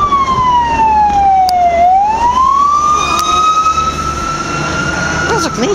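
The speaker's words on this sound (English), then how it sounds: "That's a police car" A police car siren wails loud and close, its pitch sweeping down and then rising again over steady road traffic noise, with no voices.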